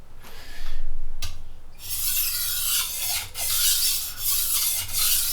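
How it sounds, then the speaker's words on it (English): A chef's knife with a broken tip is sharpened by hand, its blade drawn across a stone in a few close, hissing strokes of uneven length with short gaps between them. "here, I'm actually going to sharpen the knife."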